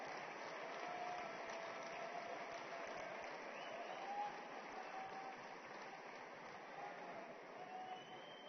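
Sustained applause from a large audience at the inaugural ceremony of the Vibrant Gujarat Summit 2017 in Mahatma Mandir, Gandhinagar, a steady even wash of clapping heard through a distant, narrow-sounding feed.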